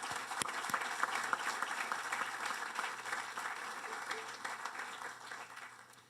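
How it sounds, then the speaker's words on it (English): A crowd at a university student-athlete center groundbreaking ceremony gives a sustained round of applause, dense and steady clapping that gradually fades toward the end. "if you could join me in a round of applause for them"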